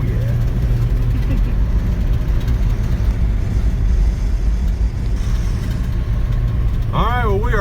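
Steady engine drone of a 1964 Dodge sedan on the move, a continuous low rumble heard from inside the car, with a brief squealing tone near the end.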